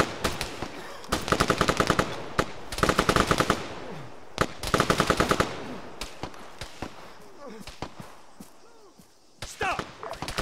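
Covering gunfire in the Arma 3 forest battle, with loud rapid automatic bursts in three main volleys and scattered single shots, near and sharp, while voices call out between them.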